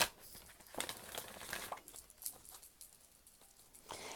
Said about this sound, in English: So let me shuffle these real quick.